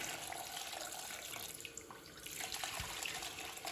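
Foul-smelling old liquid poured out of a 1970s Sno-Pony snowmobile, a steady close splashing trickle like running water that keeps up for the whole stretch, with no talking.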